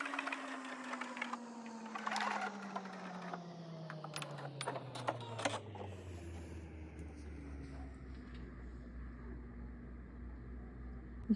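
A sewing machine runs a decorative stitch on patterned fabric, a steady mechanical whir with a tone that slowly falls and settles, overlaid with light rapid ticking and clatter that thins out toward the end.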